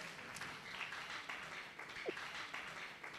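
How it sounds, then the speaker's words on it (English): Faint, distant applause from an audience at a secondary schools foundation debate welcoming arriving schools, an even, soft patter of clapping with one brief higher sound partway through. "Please give them a round of applause for safe arrival."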